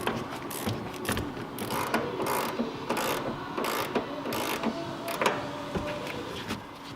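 A wrench ratchets a nut tight on a shock of a 2005-2014 Mustang GT, producing repeated sharp metallic clicks and clanks in an irregular rhythm, close up with no voices.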